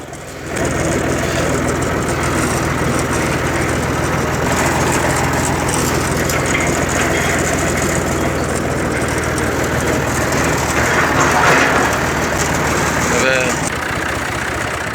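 A tractor engine idles and chugs in a village field during barley sowing, a loud continuous close drone that runs throughout while people talk over it.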